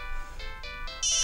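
A mobile phone ringtone goes off late at night: a melodic electronic tune of bright tones stepping upward in short phrases, fairly close and heard alone for about a second.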